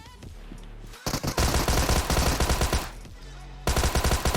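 PUBG Mobile video game gunfire: rapid automatic bursts in two loud volleys with a short pause between, close and dominant, with a brief thump beforehand.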